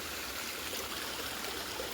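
Water pouring steadily over a lake's overflow falls, a constant soft rushing wash heard from a distance with no voices.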